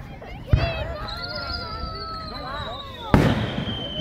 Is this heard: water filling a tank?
no